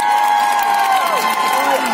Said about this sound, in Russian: Аплодисменты Жене.